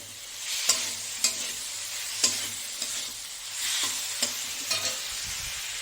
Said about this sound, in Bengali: আলু আর মূলোটা একদম ভালোই মশলার সঙ্গে কষানো হয়ে গেছে